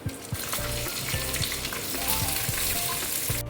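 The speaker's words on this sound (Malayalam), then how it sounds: "ഇതിനകത്തോട്ട് തന്നെ ഞാനിപ്പോൾ കിസ്മിസും കൂടി ഇട്ട് വറുത്തെടുക്കും" Cashews and raisins fry in ghee for mango halwa, giving a loud, continuous sizzle with rhythmic scraping and stirring strokes from a spoon in the pan, and no voices.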